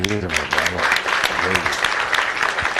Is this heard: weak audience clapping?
yes